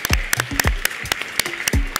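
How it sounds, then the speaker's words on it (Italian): Scattered, loud claps close by at a festival talk's close, uneven and sparse rather than a full ovation, with low thuds between them. "un applauso"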